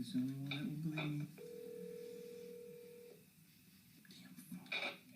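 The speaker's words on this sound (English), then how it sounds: "Then he frantically dials his friend on a landline." Landline telephone being dialed, a few short electronic tones and a sustained steady dial-type tone of about two seconds, heard under a voice and some background music.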